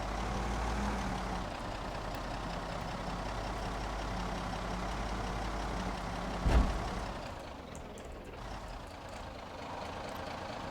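Car engine in Project Zomboid, a steady low rumbling drone running for several seconds, then a sudden thud as the vehicle strikes something, after which the engine carries on more quietly.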